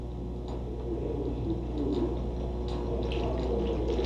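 Water pouring and trickling through a student's Rube Goldberg machine, a steady splashing flow with a few light ticks and clinks, close and fairly loud, alone without talking.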